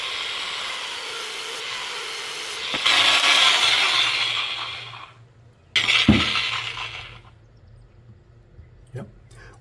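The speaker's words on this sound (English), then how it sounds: "we're going to clean this pad off now with a brush" A stiff brush scrubs old abrasive and finish residue out of a buffing pad in short scraping bursts, loud at first, then stopping and starting again with a few sharp clicks.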